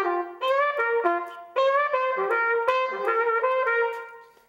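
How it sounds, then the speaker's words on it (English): A trumpet phrase with notes scooped, each sliding up from below into pitch. The tone is bright and clear, played solo and close across several sustained notes with short breaks. "Another great effect called the scoop is it's kind of related to the dip or the bend,"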